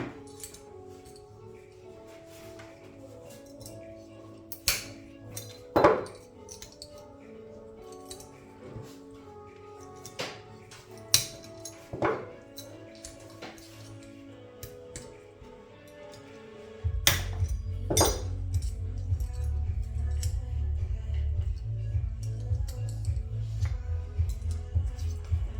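Small metal parts clink in sharp, scattered taps as the top comes off a Nitro Alpha 28 model engine with a destroyed main bearing; partway through, a steady low hum sets in beneath further clinks.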